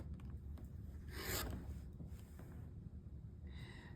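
A single rasping cut through a 2.5 inch fabric strip for a quilt, made with a rotary cutter guided along a ruler, close and fairly quiet, lasting about a second within soft handling noise.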